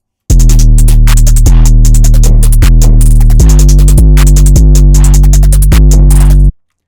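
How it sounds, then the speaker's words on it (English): 808 bass from a beat, boosted and run through a soft clipper, playing alone as loud, deep sustained notes that step between pitches, with gritty distorted upper edges on each note. "And finally, just the 808."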